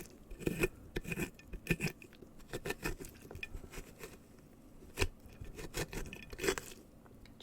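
Scraping and loosening the inside of a Halloween pumpkin during carving, heard as close, quiet, irregular wet scrapes and soft patters in bursts, with faint distant thunder behind.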